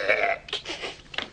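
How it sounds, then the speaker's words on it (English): A single drawn-out burp, close and loud, breaks in the middle into a couple of throaty bursts. "I'm going to burp."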